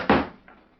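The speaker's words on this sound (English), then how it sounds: "Close the trap door." A trap door in a radio drama shuts with one loud, close wooden thunk, followed by a fainter knock as it settles. Nobody speaks.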